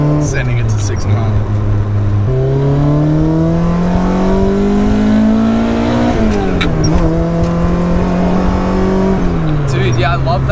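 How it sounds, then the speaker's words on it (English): A Toyota KE70 with a 4AGE engine revs hard and accelerates, its loud, close engine tone climbing steadily through the gears with brief drops at each shift, continuous throughout. "quintessential race car noises"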